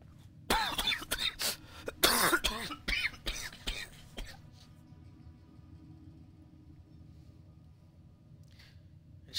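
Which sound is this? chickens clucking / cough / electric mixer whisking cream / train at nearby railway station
cough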